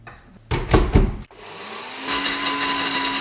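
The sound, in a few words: blender mixing baked oats ingredients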